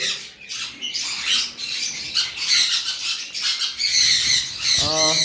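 Caged lovebirds kept for sale give sharp, repeated squawks and chirps in quick overlapping bursts, loud and close, with a brief rustle among them.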